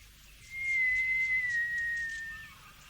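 A person whistles one clear, sustained note lasting about two seconds, sliding gently downward before fading, alone against quiet background hiss.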